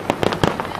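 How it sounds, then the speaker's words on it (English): Fourth of July fireworks go off in the rain as several quick, crackling bursts in rapid succession, moderately loud at a distance. "Fireworks and rain, they don't always mix."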